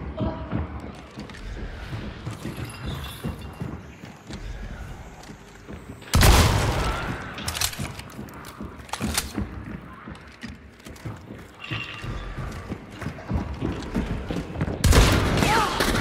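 Gunfire in the game Hunt: Showdown, including shotgun blasts, sounds as heavy booming shots at intervals amid rustling movement and rumbling background, with a person talking over parts of it.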